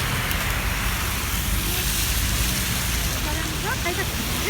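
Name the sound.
rain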